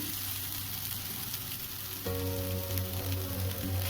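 Poha with sugar and roasted peanuts frying in a pan, a dense, steady sizzle that turns fuller and louder partway through as more goes into the pan.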